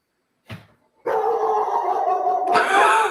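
A dog barks indoors toward a door, a short bark followed by a longer, loud sustained bout of barking or howling close by, with no one talking over it.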